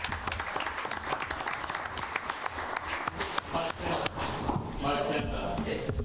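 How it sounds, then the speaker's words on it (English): People at a town board meeting clapping for Little League volunteers, a moderate round of applause with scattered individual claps throughout, voices talking over it. "So we should clap for them."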